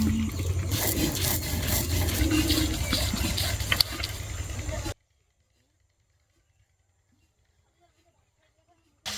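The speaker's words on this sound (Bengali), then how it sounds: "তিত বেগুন ভাজাগুলো এখন আমি শিলে বেটে ভর্তা করে নেব।" Fried bitter eggplant being ground into a mash on a stone shil slab gives a loud, steady scraping and rubbing for about five seconds, then stops into near silence.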